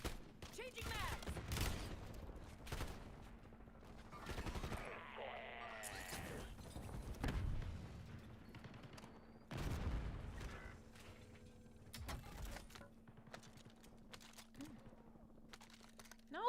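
Gunfire in the Call of Duty Warzone video game, with scattered bursts and single shots at varying distances, moderately loud among game effects and some voice chatter.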